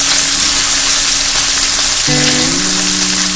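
Ginger-garlic paste fries in a pan for a vegetable pizza topping, giving a loud, steady sizzle that runs unbroken through the whole stretch with no talking.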